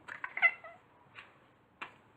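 A house cat gives a few short, faint meows, with an initial cluster of quick calls followed by two isolated ones after pauses, close by and otherwise quiet.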